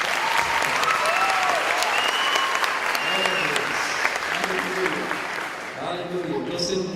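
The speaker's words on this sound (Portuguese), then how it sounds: "Eu acho que eles merecem um aplauso um pouquinho mais intenso." Church conference audience of teenagers breaking into loud, sustained applause, dense clapping filling the space with a few voices and cheers mixed in, easing slightly toward the end.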